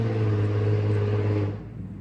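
Infiniti G35 with a V6 and aftermarket exhaust driving past, a loud low droning rumble that holds steady for about a second and a half, then drops away sharply.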